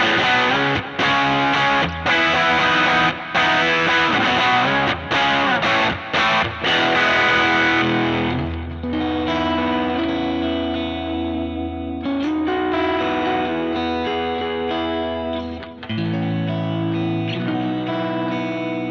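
Overdriven electric guitar through an AC44-style amp model on a Helix, thick growly midrange, fast choppy riffing that gives way to sustained, heavily effected chords ringing with echo.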